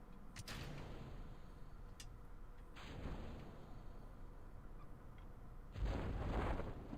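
A rocket crashes and explodes in Kerbal Space Program, giving a few soft, distant-sounding bursts across the span and ending in a broader, louder blast near the close.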